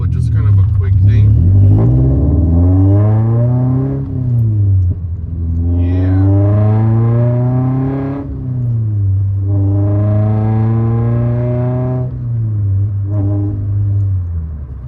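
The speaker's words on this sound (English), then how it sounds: "listening to the car as we're ripping through the canyons, hearing it roar" A Scion FR-S fitted with Skunk2 unequal-length headers roars through canyon roads, its engine climbing through repeated long revving pulls and dropping between shifts, loud and close throughout.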